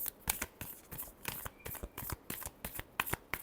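Tarot cards shuffled by hand in quick, steady riffles, each crisp flutter of card edges close and distinct, with no voices.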